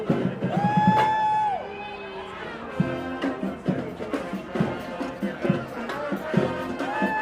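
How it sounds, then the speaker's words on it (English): A crowd of hockey fans on the way to Rogers Arena in Vancouver for an NHL playoff game, with loud chatter, whoops and a live band playing melodic tones nearby. "Look at this crowd over here."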